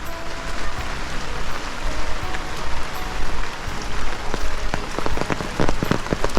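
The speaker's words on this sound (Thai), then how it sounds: "ฝนตกหลายมือแล้วติดต่อกัน" Heavy storm rain pours steadily onto a hard surface in a rural village, a dense continuous hiss with sharp drips and splashes sharpening toward the end.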